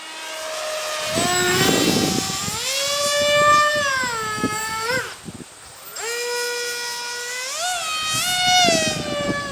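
An Eachine Fury Wing RC flying wing's motor whines loudly in flight, rising and falling in pitch as it passes and banks, briefly dropping away before surging back.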